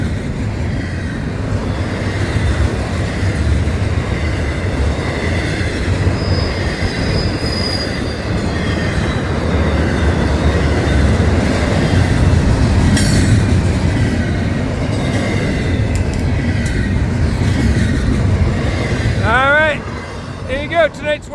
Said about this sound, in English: I can't believe I got in front of this train.